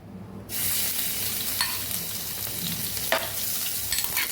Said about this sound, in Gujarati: આપણું તેલ સરસ ગરમ થઈ ગયું છે અને આપણે લસણ દરદરું જે પીસેલું એને આપણે પહેલાં સાતડી લેવાનું છે